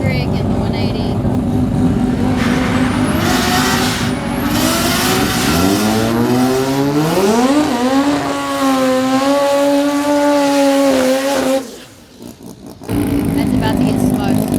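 A Nissan 180SX with an RB25DET engine launching down a drag strip, its loud engine revving and climbing through the gears in rising sweeps with a brief gearshift dip near the end, heard over crowd noise and voices.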